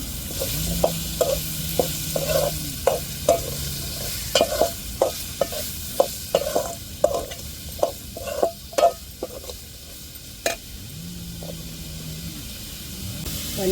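Mushrooms hit a hot pan and fry with a steady sizzle while a spoon scrapes and knocks against the metal in quick irregular strokes, close and fairly loud, without speech.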